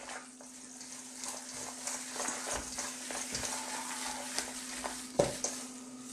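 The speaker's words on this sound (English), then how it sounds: "I'm gonna go straight in with my hands and mix this all together" Hands squelching and kneading a spinach and potato cake mixture for saag aloo tikki, soft wet stirring and mashing sounds close up, steady and quiet with a faint background hum.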